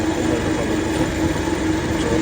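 A large train rumbles past close by in a steady, continuous roar of wheels and carriages, with no breaks and no voices.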